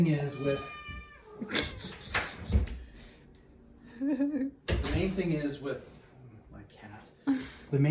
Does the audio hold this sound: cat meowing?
yes